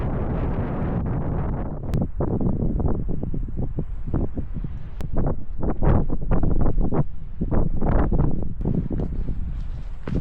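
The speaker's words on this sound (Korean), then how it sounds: "바람이 세차게 불어서 더욱 박진감이 넘치네요" Strong gusts buffet the microphone on a rocky ridge of Bulgoksan mountain in Yangju, a loud continuous roar with crackling bursts throughout.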